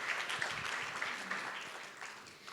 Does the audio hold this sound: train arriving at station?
no